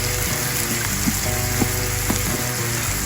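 Kimchi grilling in rendered pork belly fat at a campsite, a loud, dense, continuous sizzle and crackle close by, with a few faint pops and no voices.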